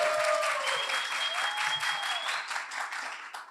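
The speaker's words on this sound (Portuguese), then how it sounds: "Uma salva de palmas, pessoal." Audience applause fills a live medical podcast recording at an in-person event, a dense crowd clapping steadily for a few seconds with faint voices and a whistle-like tone running through it.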